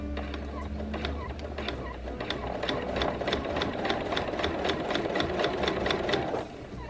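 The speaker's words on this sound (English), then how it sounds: "I'm going to sew while matching up the seams" A sewing machine stitches quilting fabric pieces along matched seams in an improv round robin quilt. It runs steadily with a rapid, even needle clatter over a motor hum, close up, and slows near the end.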